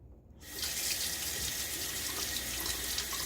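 Tap water runs steadily into a sink for rinsing during a wet shave with a Timeless .95 scalloped safety razor. A close, constant hissing stream starts abruptly after a brief moment of quiet and continues without talking.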